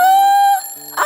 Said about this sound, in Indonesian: lalu alarmnya bunyi.